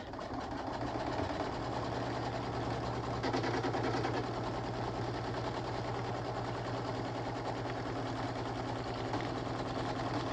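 Sewing machine stitching through layers of fabric for a soft keytag, a continuous rapid mechanical chatter at a steady pace, close and even for the whole stretch.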